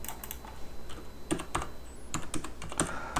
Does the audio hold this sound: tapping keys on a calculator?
yes